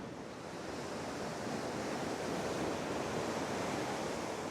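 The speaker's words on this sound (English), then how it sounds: "Here comes the water." Continuous rushing surf washes onto a rocky shore at Laguna Beach, California, at high tide with heavy surf, a dense hiss of breaking water that builds gently and holds steady, with no voices.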